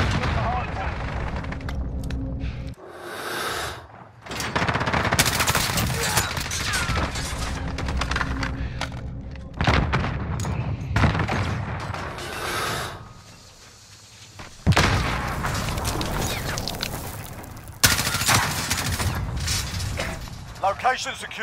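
Gunfire and explosive bursts in a Call of Duty Modern Warfare Hardpoint team deathmatch, loud dense volleys broken by short gaps, with in-game voice callouts over the action.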